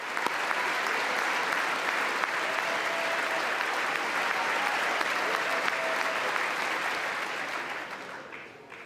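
Sustained applause fills a Congress joint session chamber, dense and steady clapping at close range for about eight seconds before tapering off.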